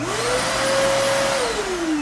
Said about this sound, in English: So here's our Kenmore canister vacuum cleaner. It's about 3 years old. It still turns on